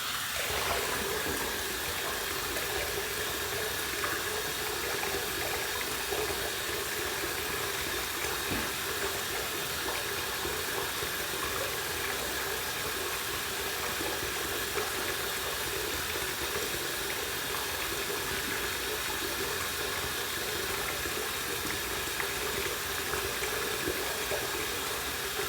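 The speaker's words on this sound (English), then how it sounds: "I'm going to use a washcloth to kind of wipe down whatever's left there using warm water." Warm tap water runs steadily into a sink while a washcloth is rinsed, a constant close hiss and splash with no pauses or voices.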